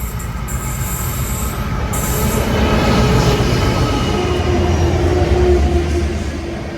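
A Pacific National freight train rolls through Sandgate Station on the Hunter Line behind an NR class locomotive, a loud continuous rumble of wagons with wheel squeal and rail clatter.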